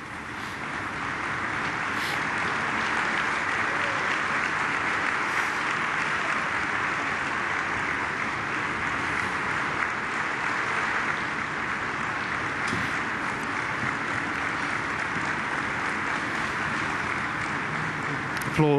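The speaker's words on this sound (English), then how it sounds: "Applause from the Polish president there." Sustained applause from a large crowd at a commemorative ceremony attended by the Polish president, a steady dense wash of clapping running throughout at an even level.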